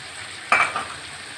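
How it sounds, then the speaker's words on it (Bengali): Vegetables are stirred and fried in a pan with onion and green chilli for a Bengali fish chorchori, giving a brief close scrape and sizzle burst amid a quiet kitchen background, with no talking. "সবজিটা কষিয়ে নিচ্ছি যে কাঁচা লঙ্কাটা ভালো করে রেখেছিলাম এখন দিয়ে দিচ্ছি"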